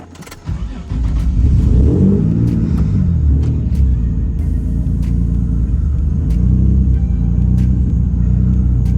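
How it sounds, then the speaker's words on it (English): A Nissan 350Z engine cranks and fires up, revs briefly with a deep rumble, then settles into a loud, slightly uneven idle. "I'm gonna start it again."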